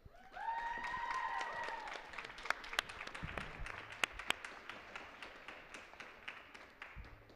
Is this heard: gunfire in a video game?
no